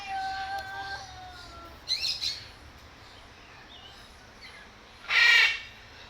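Birds calling at Umgeni River Bird Park in Durban: thin whistled notes at the start, a brief chirping burst near two seconds, then a louder harsh squawking call toward the end, fairly close with quiet gaps between.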